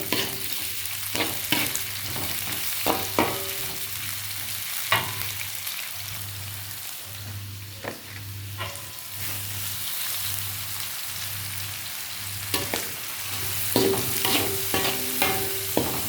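Onion, chili and garlic frying in oil in a pan: a continuous close sizzle and crackle, with occasional stirring scrapes and clinks throughout, and no talking.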